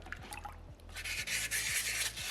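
A small soapstone orca carving is dipped into water after being sanded with silicon carbide, giving a close, soft rushing swish of water with light rubbing and faint drips.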